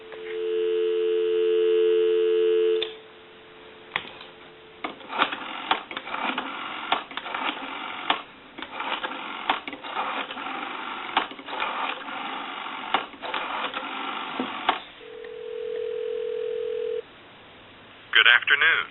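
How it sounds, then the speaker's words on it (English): A wood wall telephone on a country line, heard over a narrow phone-line band: a steady tone opens, then choppy clicks and bursts of line noise, a second steady tone later, and a recorded voice near the end. "So we'll go ahead and give you some dial tone."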